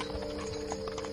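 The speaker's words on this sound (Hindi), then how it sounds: "वाह, 3 घोड़ागाड़ी वाले। वो तो इधर ही आ रहे हैं।" Hooves of three horse-drawn carriages clip-clopping steadily toward the listener, a continuous rhythmic patter with a sustained tonal hum underneath, at moderate loudness with no talk.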